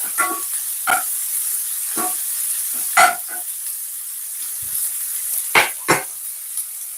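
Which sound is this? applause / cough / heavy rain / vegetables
vegetables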